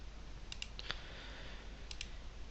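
Mouse clicks in a software installer on a computer: a handful of faint, sharp clicks in pairs over quiet room noise, with no talking.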